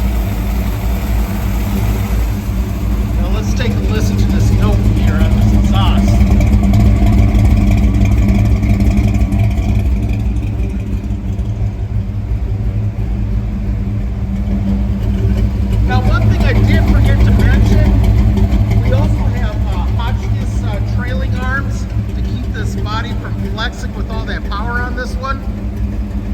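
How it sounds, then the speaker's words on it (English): A 1960 Chevrolet El Camino V8 with automatic transmission, its exhaust burbling in a steady low idle with a couple of swells of revving, close and loud, while people talk over it intermittently. "Now let's take a listen to this note here on this exhaust."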